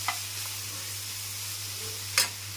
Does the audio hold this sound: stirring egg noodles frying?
yes